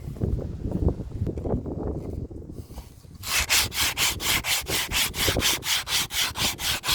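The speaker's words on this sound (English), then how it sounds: "as you can see, I'm rubbing it down by hand" Hand sanding of a boat's painted hull: after a jumble of rubbing and handling noise, a loud, steady back-and-forth rasp sets in, with even, rhythmic strokes repeating close by.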